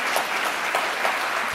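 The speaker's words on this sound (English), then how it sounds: "let's give another round of applause to Stephen" A conference audience gives a speaker named Stephen a round of applause, a brief burst of thick, continuous clapping from many hands that stays steady and loud throughout.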